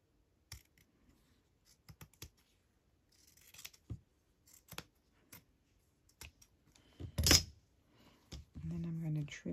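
Scissors cutting fabric for a small fabric tag with a pouch, a series of short close snips and crunches spread across the clip, followed by brief handling noise.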